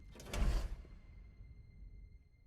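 A door slides open in the Solasta: Palace of Ice video game: a single heavy whoosh and rumble that fades into a low, lingering mechanical hum.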